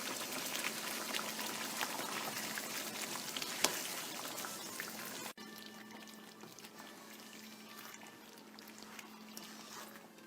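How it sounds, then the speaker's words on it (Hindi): Cream poured into chicken korma cooking in a pan, a steady bubbling simmer with soft liquid pouring, fairly quiet, the texture dropping a little halfway through. "चिकन रेडी हो गया है और इसमें ये क्रीम डाल लेते हैं।"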